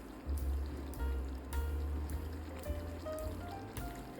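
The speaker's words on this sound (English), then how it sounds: "cover it up, lower the heat, and let it all simmer for at least 45 minutes" Meatballs simmering in a rustic tomato basil sauce under a lid on low heat, giving a steady soft bubbling and gentle sizzle with low rumbling pops throughout.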